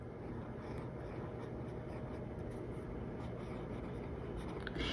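A Pelikan M200 fountain pen with an extra fine nib scratches steadily across paper, a faint, continuous close-up rasp under low room hiss.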